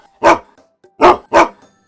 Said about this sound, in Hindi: अगले दिन मोती भीमा को जगाने के लिए भौंकता रहा